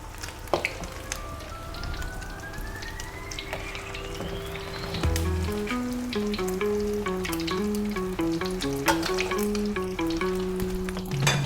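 Loud, continuous sizzling of a crab omelette frying in plenty of oil, with bubbling crackles and occasional stirring scrapes throughout.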